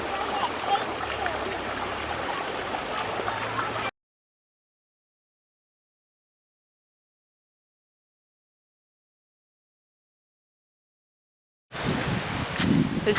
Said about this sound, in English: I'm out here in the stream